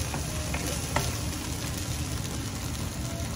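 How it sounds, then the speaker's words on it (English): Kerala-style avial vegetables are sautéed with curd in a hot pan, giving a steady close sizzle with occasional stirring scrapes and no talk. "Saute it till all the curd is absorbed in vegetable"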